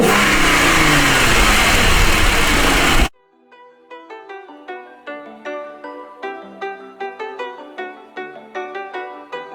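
A Jeep fitted with a cold air intake revs with a loud, dense roar for about three seconds, then cuts off abruptly and gives way to a run of clear, rhythmic tonal notes.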